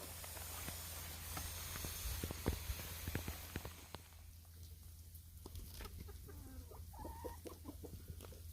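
Chickens cluck softly in a garden chicken tunnel running between raised beds and an orchard, scattered low clucks and scratching over a steady low hum, fairly faint and unaccompanied by talk.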